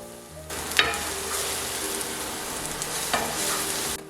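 Chopped onion and garlic frying in olive oil in a pan for a fresh broad bean dish, a steady close sizzle with a few stirring scrapes and clinks, no talking.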